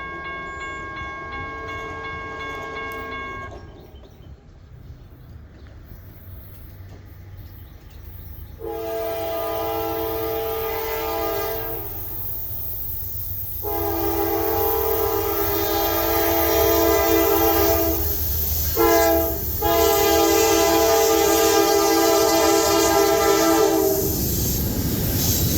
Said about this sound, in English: NS Train 289 heads westbound through town.